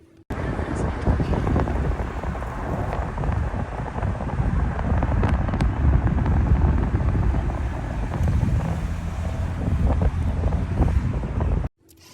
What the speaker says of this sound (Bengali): কিন্তু এখানে বেশ ভালোই বাতাস ছিল, মোবাইল ধরে রাখার মতো ছিল না